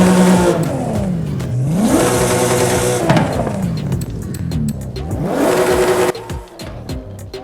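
A 1996 Subaru SVX in Forza Horizon 5 revs loudly and close, its engine note climbing and dropping in repeated sweeps with exhaust roar, then cutting off abruptly into lower, choppier engine sound near the end.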